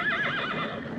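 A horse whinnies loudly and close, its wavering neigh rising and falling through the whole short stretch with no talk over it.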